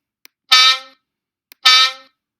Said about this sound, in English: It's playing the sound of an air horn when I press as well.